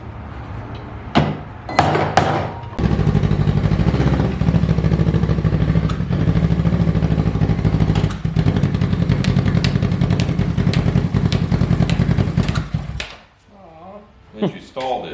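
A Kawasaki Ninja 650 motorcycle under restoration runs loud and close with a rough, steady engine roar and mechanical clatter, then cuts out abruptly into near silence, with a few knocks before and after.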